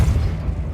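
Depulso spell blast from the video game Hogwarts Legacy, a single heavy, booming burst with a deep low-end thump that rolls on for under a second.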